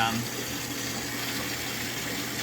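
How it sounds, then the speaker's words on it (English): Water is poured in to deepen and speed the flow through a low-flow test channel fitted with pressure sensors, making a constant close rushing, splashing wash under a steady hum. "increase the depth of the water here. I'm going to add some more flow."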